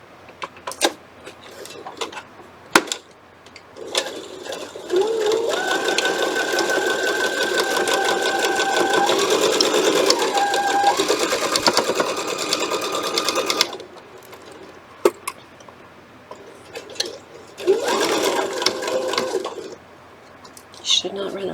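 Sewing machine stitching a quilt block, a steady close whirring run of several seconds followed by a shorter burst, with brief clicks and handling noises around it.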